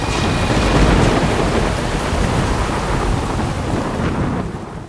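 Heavy thunderstorm over Washington, DC, with steady loud rain and deep rumbling thunder filling the whole stretch, and some wind buffeting the microphone; no voices.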